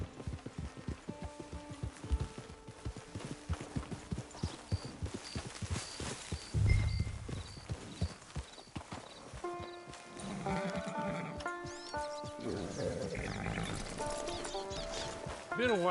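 Horse in the game Red Dead Online, rhythmic hoof clip-clops with a brief whinny midway, set against game music and ambient tones and heard without speech.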